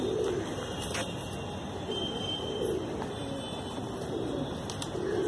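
Desi high flyer pigeons coo in soft, repeated low phrases, steady through the clip with a faint buzzing tone behind.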